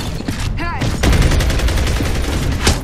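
Rapid bursts of gunfire from the video game Gears of War 3, loud and close, with clustered shots and a sharp rising whine near the start, firing fairly continuously throughout.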